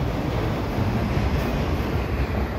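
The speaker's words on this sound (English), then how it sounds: "And that's the end of the train." The tail of a CPKC mixed freight train, with auto racks at the rear, rumbles past in winter as a steady, broadband roar of wheels and cars that holds loud throughout with no voices.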